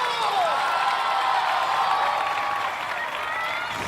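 A television competition crowd at American Ninja Warrior roars and applauds in a steady, loud, continuous wash of cheering and clapping that holds throughout and fades slightly at the end.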